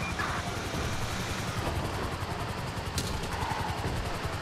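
Police helicopter in the video game GTA V, a faint steady rotor drone blended with game noise and a brief sharp burst near the end.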